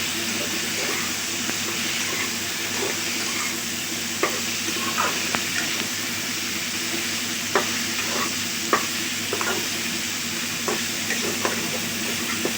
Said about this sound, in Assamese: ভেন্দিখিনি দিয়াৰ পাছত অকণমান ভাজিব লাগিব।